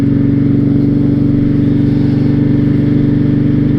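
A 2006 Honda VTX1300 motorcycle engine on a ride gives a loud, steady, low throbbing drone with an even pulsing beat throughout.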